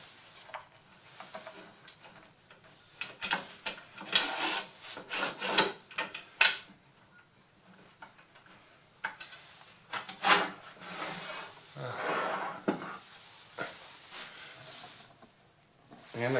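Captured nuts slide into a home-made wooden table saw fence, making faint scraping and rubbing sounds in short, uneven bursts with quiet gaps between them.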